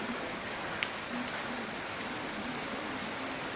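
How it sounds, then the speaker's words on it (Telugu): Steady rain patters on a surface, a constant even hiss of drops with no other sounds. "ఫస్ట్ స్టార్టింగ్ వర్షం అండి ఇది"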